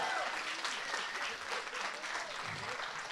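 Steady applause from a crowd at a collegiate League of Legends esports championship, continuous and fairly loud throughout as the runners-up are honored.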